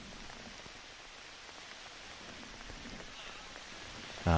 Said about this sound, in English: the rain is steadily tumbling